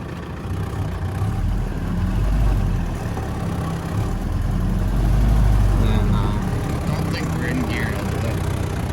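A 1948 Willys Jeep CJ-2A engine rumbles close and steady at low speed as it reverses into a parking spot, with someone talking over it near the end.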